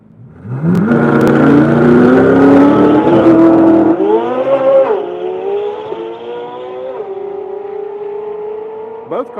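Two drag racing cars, one a Corvette, launch hard off the line together, engines roaring loud and close with a rising pitch through the gears, then fading as they pull away down the strip.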